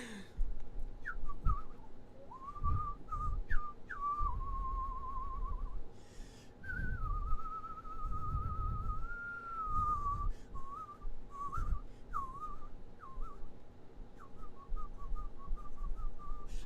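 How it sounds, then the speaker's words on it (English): A person whistles a wandering, wavering tune, soft and close, with short phrases and pauses over a low background hum and occasional thumps. "I really shouldn't whistle too much until I listen back to what whistling sounds like in playback."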